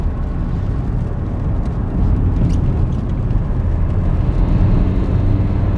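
Engine of a 2014 Dacia Duster heard from inside while driving, a loud, coarse low rumble resembling a tractor that swells slightly partway through and then holds steady.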